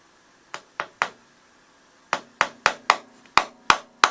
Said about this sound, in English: I'm going to attach some brads to the workboard, and that will allow me to secure this with some clamps